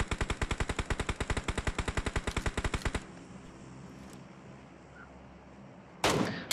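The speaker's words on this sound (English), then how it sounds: "There's one guy shooting me." PUBG Mobile gunfire: a rapid automatic burst of about two dozen evenly spaced shots for three seconds, then a quiet stretch and one loud sharp blast at the end.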